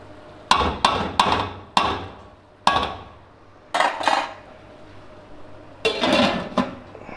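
A metal spoon scrapes and knocks against a pot while stirring cooked rice for matar pulao, with a series of sharp clanks in uneven clusters and quiet pauses between.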